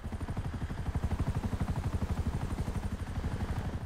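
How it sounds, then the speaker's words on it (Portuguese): Helicopter in the video game GTA V, its rotor beating in a fast, steady chop that stays loud and close throughout, with no talk over it. "Vai cair o helicóptero já já."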